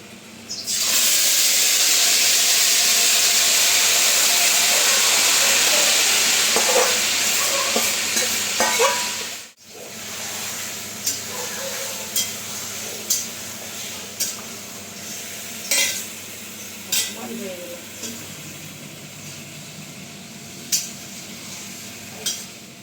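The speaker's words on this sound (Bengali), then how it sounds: "দেখো এবার আমি চিকেনটা দিয়ে দিচ্ছি। তেলটা অলরেডি গরম হয়ে গেছে।" Chicken pieces dropped into already hot oil, a loud, dense hiss and sizzle for about nine seconds that cuts off abruptly, then a softer sizzle with scattered clicks and scrapes of stirring, close and with no talking.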